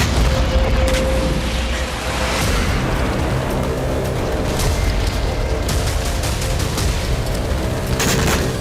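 Military strikes on Hamas positions in Gaza rumble as a dense, continuous roar of booms and blasts, loud and sustained with a few sharper cracks, and no speech.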